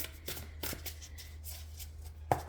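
Tarot cards shuffled by hand, a quick papery riffle and flutter in several short bursts across a quiet room, close and soft, with no talking.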